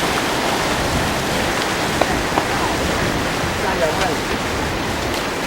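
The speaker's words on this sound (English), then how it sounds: "As it started raining, one can see the umbrellas are coming up." Rain falls steadily on a street in Taipei, Taiwan, where umbrellas are going up, a dense, even hiss of drops with a few faint sharper taps, close and continuous with no talk.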